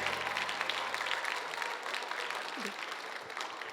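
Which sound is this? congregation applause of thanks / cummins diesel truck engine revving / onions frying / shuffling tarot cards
congregation applause of thanks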